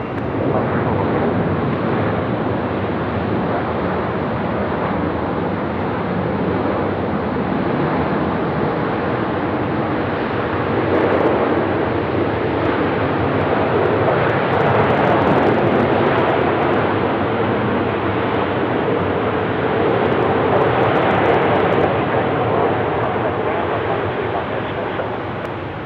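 Velocity 813 airliner lining up on runway 34 at Melbourne airport, its engines a steady, loud broadband roar that swells slightly midway and holds for the whole stretch with no speech.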